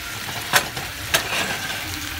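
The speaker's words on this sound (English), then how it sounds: "So, I'm going to saute this, let this cook on medium heat." Watermelon rind sautéing over medium heat in a hot pan, a steady soft sizzle with two brief sharp scrapes of stirring, close and moderately loud, no talking.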